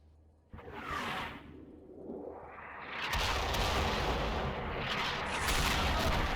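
American artillery fire in the Combat Mission video game: a rushing incoming whoosh, then a dense, sustained roar of heavy blasts and rumbling impacts that keeps building, with no voices.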